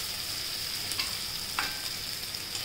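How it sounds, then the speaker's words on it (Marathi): Fenugreek seeds sauté in a hot pan for a methi dal, giving a steady close sizzle with a couple of light spoon scrapes while being stirred, with no voices. "मेथ्या जरा परतल्या गेल्या पाहिजे आणि कडवटपणा कमी येईल"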